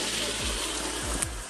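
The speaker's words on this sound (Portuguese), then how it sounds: "Aí o encanamento desce com tudo a água." Water rushing down through pipes from a water tank at a hotel farm, a continuous close hiss and gush with a few low thumps, no one speaking.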